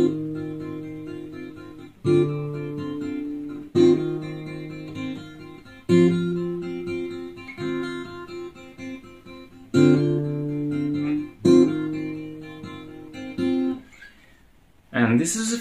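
A guitar riff repeats in short strummed bursts, each chord ringing then cut off, in a steady pattern with a brief pause near the end.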